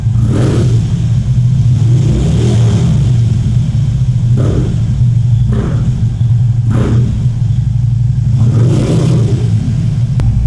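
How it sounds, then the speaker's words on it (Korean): Deep low exhaust rumble from a low-mileage Harley-Davidson Road King motorcycle, loud and close, idling steadily while several quick throttle blips rise and fall at irregular intervals. "머플러랑 살짝 섞어 놓은 것 같은 그런 낮고 낮은 배기음 보여주고 있습니다"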